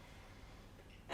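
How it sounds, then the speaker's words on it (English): A single deep inhale during a yoga practice, rising sharply at the very end after near silence. "Take a deep breath in"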